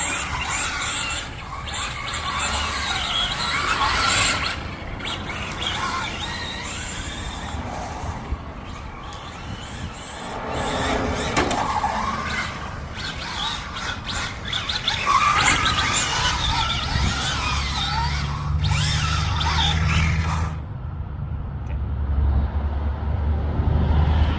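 A Traxxas Fiesta ST VXL RC car drives around with high-pitched electric motor whine and squealing tires, rising and falling as it speeds past, loud and close with some outdoor rumble.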